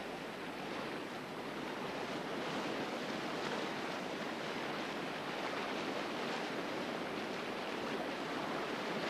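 Whitewater rushes continuously along a canoe slalom course, a dense, steady roar of churning water with no pauses and no voices, holding at an even, moderate level throughout.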